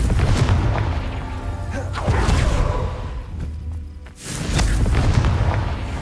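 A Confringo fire-blast spell in Hogwarts Legacy erupts with deep, loud booming blasts and rushing whooshes, swelling twice with a brief lull between.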